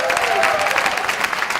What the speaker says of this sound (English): let's give a round of applause for the Shaare Zedek Hospital